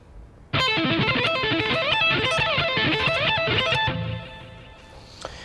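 A distorted electric guitar plays three arpeggios up to speed in a rapid, even cascade of picked notes sweeping up and down, loud and unaccompanied, then cutting off and ringing out briefly.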